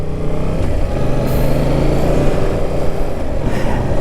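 Yamaha Tracer 7 motorcycle engine running steadily on the road, a raspy, buzzy note like a small single-cylinder, heard close and continuous with constant wind and road rumble underneath, no talking.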